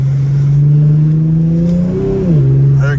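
Infiniti G37 with a muffler delete holds a loud, steady exhaust drone near idle, then blips up in a quick rev and drops back, close and alone without talk.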